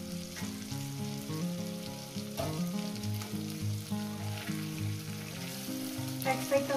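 Tengra fish sizzling together in a pan for a spicy curry, a constant crackling fry with soft scraping and a few sharper spatters, close and fairly quiet with no talk.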